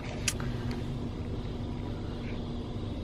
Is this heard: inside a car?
yes